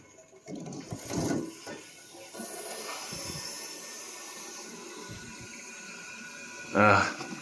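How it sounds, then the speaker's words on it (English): Water from a tap in a hundred-year-old house starts with a sputtering hiss and then settles into a steady rushing flow, loud and close. A sharper gush bursts out near the end. "let's go ahead and turn this water on."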